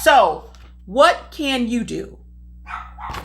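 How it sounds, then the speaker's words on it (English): A dog barks several times in the background, sharp yips and bow-wows spread through the moment while a person talks over them close by. "Excuse my dog for barking in the background."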